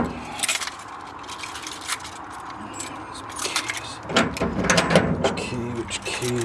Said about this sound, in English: So many fucking keys.